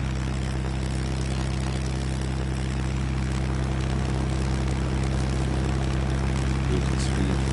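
A small sport plane flies in the UltraWings VR flight game, its propeller engine droning steadily and loudly throughout with a constant low hum and no break.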